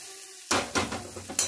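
Hot tempering of white mustard seeds and bay leaf poured into a chutney, giving a sudden loud sizzling burst that crackles and pulses, then tails off with a final sharp hiss, no talk.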